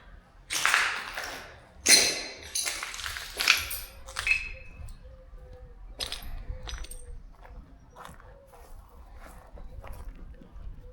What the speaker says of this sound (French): Désolé pour le bruit, mais il y a du verre partout quoi.